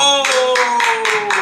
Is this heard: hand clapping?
yes